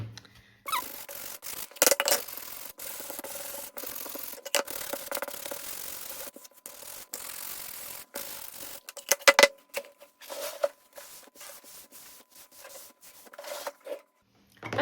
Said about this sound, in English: Now I'm just gonna sand off any of these little rough splintery parts